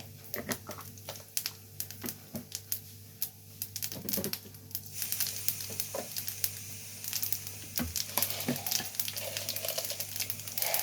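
Mustard seeds, cumin and pepper frying in hot oil in a village kitchen, a faint crackle and sputter that turns into a denser, steadier sizzle halfway through, heard without talk.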